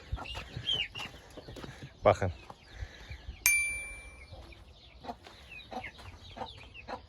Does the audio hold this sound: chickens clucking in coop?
yes